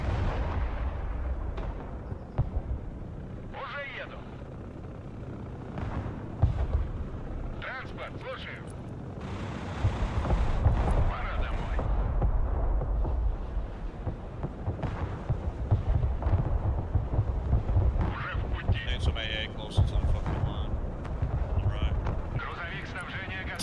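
Grad rocket artillery fire in the Broken Arrow war game, heard as repeated booming blasts and rumbling impacts through a dense, noisy battle soundscape, with someone talking over it throughout.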